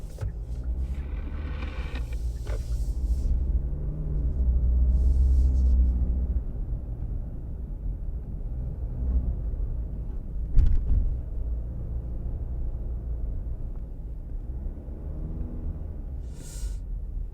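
A Hyundai Palisade 2.2 diesel SUV climbs steep terrain, its engine a steady low rumble held at modest revs, with faint clicks and a brief knock partway through.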